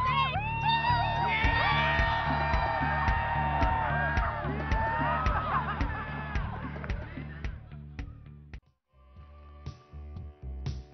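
A lively crowd cheering and whooping at a Niseko snow event, many overlapping high shouts over a steady rhythmic thumping beat, fading toward the end.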